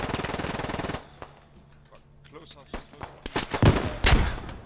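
A rapid burst of automatic gunfire opens the scene in an infantry combat video game. Scattered single shots and louder blasts follow, some near and some more distant, with players talking in between.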